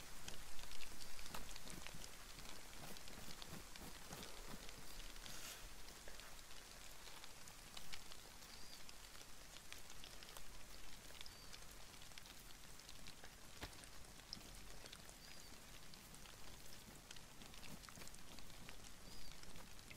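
Steady rain pours down in a DayZ survival game, a dense, even hiss of drops on surfaces that runs throughout, slightly heavier at the start, with no talk over it.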